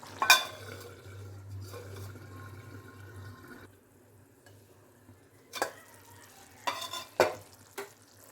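Mutton curry simmering in a pot and being stirred with a spoon, a soft bubbling sizzle interrupted by scraping and a few sharp metallic clinks against the pan, close and moderately quiet.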